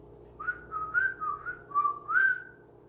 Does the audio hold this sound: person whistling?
yes